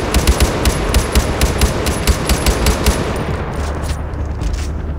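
Automatic rifle fire in the shooter game Far Cry 4 rattles in rapid bursts of loud, sharp shots for about three seconds, then stops, leaving a lower background rumble.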